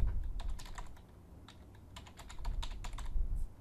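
Rapid, uneven keystrokes on a computer keyboard as login credentials are entered to sign in to a cloud deployment add-in in Visual Studio, the clicks close and clear over a faint background hum.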